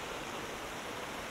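A waterfall in New England National Park roars as a steady, dense wash of falling water, close and constant throughout with no break.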